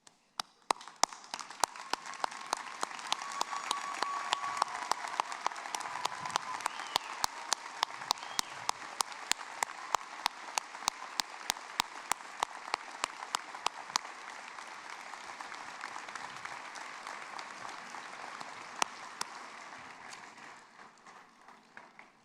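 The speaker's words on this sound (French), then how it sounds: "Pour les remercier, je vous invite à vous lever et à les applaudir" A standing audience applauds at a university graduation ceremony. The clapping is sustained and fairly distant in a large hall, with sharp individual claps over a dense wash that holds steady for about twenty seconds, then thins and trails off.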